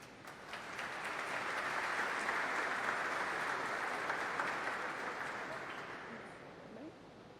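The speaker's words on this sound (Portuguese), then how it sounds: "uma forte salva de palmas" Sustained applause from an audience at a solemn medal ceremony for fire brigade officers, a steady broad wash of clapping that swells and fades over several seconds.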